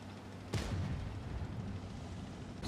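A tank's main gun fires in the WoT Blitz mobile battle game, a single loud boom at the start followed by a rumbling tail over steady engine and battlefield noise.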